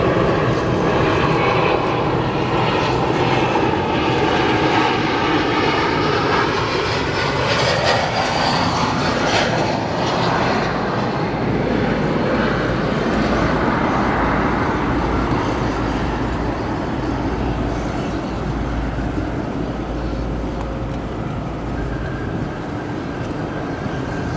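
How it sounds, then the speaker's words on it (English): An Atlas Air airplane arrives from Nashville at O'Hare International, its engines roaring loud and continuous with a slowly shifting whine as it passes, alone without voices. "That aircraft that you're looking at there, Atlas Air, arriving from Nashville."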